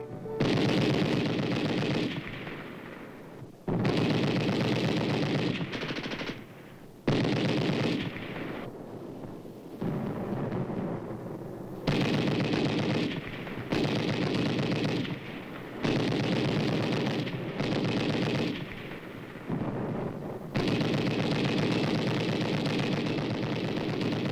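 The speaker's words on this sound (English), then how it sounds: "Allied troops open fire with machine guns on an enemy-held area" Allied machine guns fire on an enemy-held small house in Korean War combat, with repeated loud sustained bursts of rapid gunfire separated by brief pauses, some echoing and overlapping.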